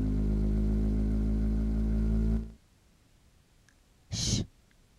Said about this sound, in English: Vibrate, vibrate.